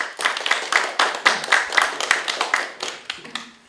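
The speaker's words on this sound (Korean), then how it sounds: "우리 공동위원장님 큰 박수로 모셔보겠습니다." Audience applause at a Korean community forum on transport fare support for seniors, children and youth, greeting the co-chair as she is introduced: a few seconds of steady, rhythmic clapping at moderate volume that thins out toward the end.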